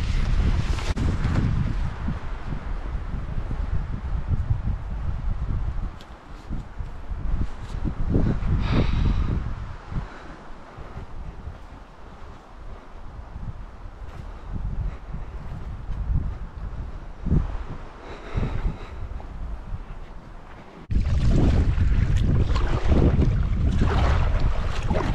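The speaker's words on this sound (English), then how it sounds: "This wind is insane today." Strong wind buffets the microphone in heavy, roaring gusts on a creek at Craig Lake State Park, with water sloshing around a boat and no talking.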